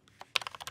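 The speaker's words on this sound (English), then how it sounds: "I'm gonna try to type the exact same thing." Brief burst of keystrokes on a computer keyboard, a couple of isolated taps followed by a quick run of crisp, close clicks.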